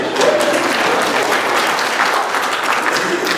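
Steady, dense applause from a church audience fills the whole stretch, with a few faint voices mixed in beneath the clapping.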